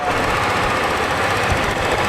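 A Tuscany 150 motorcycle engine idles steadily, a loud, close, continuous rattling drone with an even mechanical pulse and no speech.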